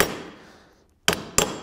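A body hammer works metal on a hard anvil: a fading ring, a brief silence, then three sharp close strikes in quick succession.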